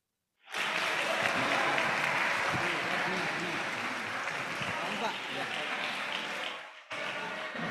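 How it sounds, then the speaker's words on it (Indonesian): Loud, sustained audience applause fills nearly the whole stretch at a school fast-breaking gathering, dense and steady before a brief dip and a short resumption at the end. "Beri tepuk tangan yang semangat"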